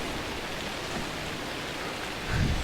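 Rain and storm in the Shelter 2 video game, a steady wash of rainfall hiss with a low rumble swelling near the end, heard alone without talk.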